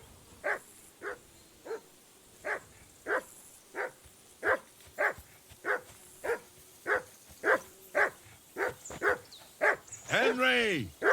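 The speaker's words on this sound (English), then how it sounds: "Whistle at that mutt of yours to stop barking." A dog barks repeatedly in steady, evenly spaced woofs in the medieval video game Kingdom Come Deliverance II, about fifteen barks in a row, with a brief whine or yip at the end and game voices around.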